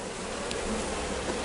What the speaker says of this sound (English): There's going to be a lot of bees here still.